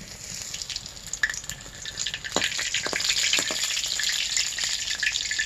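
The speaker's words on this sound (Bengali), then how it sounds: "পকোড়াগুলো খুব সুন্দর লাল লাল করে ভেজে দিব" Banana flower pakoras deep-fry in oil on a clay stove, a continuous bubbling sizzle with scattered sharp pops and crackles that grows fuller and louder partway through.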